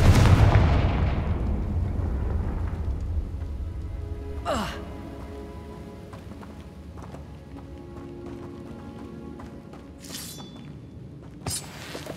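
Confringo fire-blast spell cast in the Hogwarts Legacy video game: a loud booming burst at the start, a sharp whooshing crack midway, then scattered fiery pops and crackles over a low rumbling game background.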